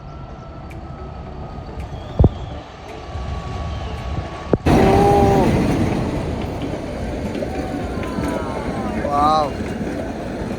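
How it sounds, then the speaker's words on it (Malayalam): An Ooty toy train passes nearby with a rising rumble and rattling wheels, steady and fairly loud, while people talk and exclaim over it. "ട്രെയിൻ വണ്ടി."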